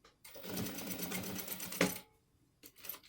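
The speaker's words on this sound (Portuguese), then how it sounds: "vou fazer ele com um pezinho de máquina" Close sewing machine running steadily for under two seconds as it stitches a sweatshirt with a presser foot, a continuous rapid mechanical whir that stops abruptly, followed by a couple of faint handling clicks.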